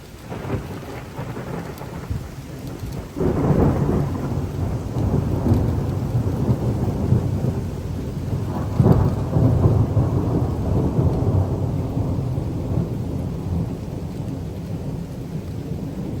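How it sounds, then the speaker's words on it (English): Close thunder from a nearby lightning strike erupts and rolls on in loud, deep rumbles through a severe thunderstorm with strong gusty wind, while rain hisses steadily throughout; no voices. "That was a close lightning strike."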